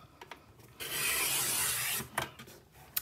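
A paper trimmer blade slides through a sheet of scrapbook paper in one steady, close rasping stroke lasting about a second, framed by a few light clicks and handling taps before and after.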